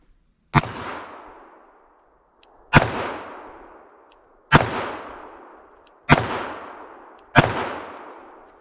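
A S&W Model 69 Combat Magnum revolver fires five double-action shots at an outdoor range, each a loud sharp crack with a ringing decay, spaced unevenly one to two seconds apart.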